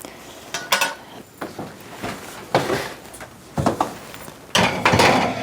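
Metal bread pans for homemade yeast bread clank and scrape as they are slid into an oven, several sharp knocks and sliding rattles spaced a second or so apart, close and fairly loud.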